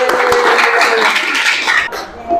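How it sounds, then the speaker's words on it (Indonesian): A classroom group claps together briefly, a burst of quick overlapping hand claps that tapers off within a couple of seconds while room voices murmur faintly underneath. "Oke, tepuk tangan kita."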